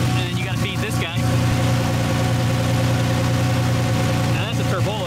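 A single-turbo VQ35HR V6 swapped into a Nissan S14 240SX idles loudly and steadily up close, a dense throbbing rumble with a fluctuating whine near the start and end.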